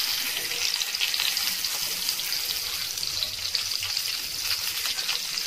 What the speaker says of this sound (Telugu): ఈ టొమాటోస్ మునిగే వరకు ఆయిల్ని పోయాలి